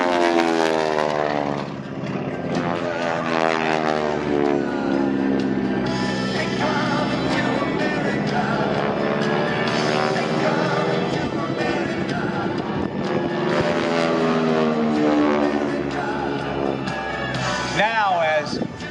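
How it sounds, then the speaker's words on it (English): Loud, steady propeller engine growl from an aerobatic team plane at the Dayton airshow, with a harsh buzzing drone from propeller tips going supersonic at about 2,200 rpm, sustained throughout and shifting slightly in pitch as it passes; a voice speaks over it. "that growl you hear on the engines, that's the sound of the propeller tips going supersonic"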